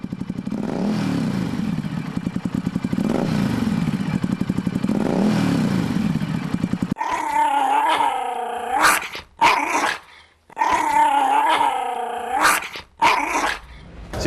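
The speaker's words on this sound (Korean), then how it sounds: "지금도 보면 두부가 으르렁거리거든요" A dog growls and barks in several sharp, loud bursts separated by short pauses, after about seven seconds of a motorcycle engine rumbling close by.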